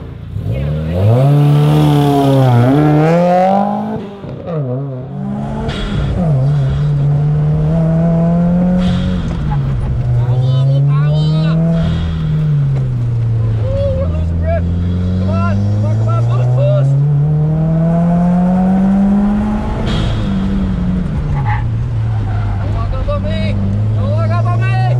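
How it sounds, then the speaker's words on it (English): All-wheel-drive race car on a track, engine loud and close, revving up and down in repeated sweeping surges with brief lifts between, voices talking over it. "This is the first time I've ever driven an all-wheel drive."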